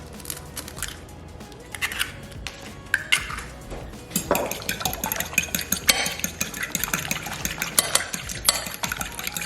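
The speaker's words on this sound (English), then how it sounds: "You're gonna wanna beat the egg." Eggs are beaten in a bowl with a fork or whisk, giving quick rhythmic clinking and tapping against the bowl that grows busier toward the end, close and fairly quiet, with no talking.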